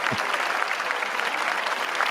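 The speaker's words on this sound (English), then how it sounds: "You know, we got to let the people applaud you" A studio audience at a podcast taping claps steadily, a dense patter of many hands filling the room without a break.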